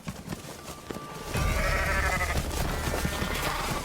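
Sheep bleat at a Kazakh herders' winter pasture, several overlapping calls rising after a quieter stretch of outdoor noise, fairly close and loud with no talking.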